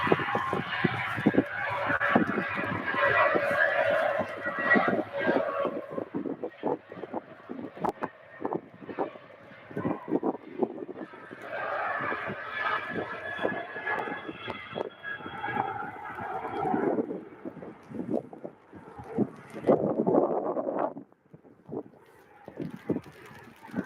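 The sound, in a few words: strong wind blowing at airport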